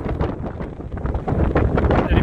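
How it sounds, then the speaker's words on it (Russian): Strong coastal wind buffets the microphone at Hopewell Rocks in New Brunswick, Canada, a steady loud rumbling roar with gusty surges throughout. A person's voice may be mixed faintly into the blustering noise. "Ребята, здесь сильный ветер, извините за ветер сразу."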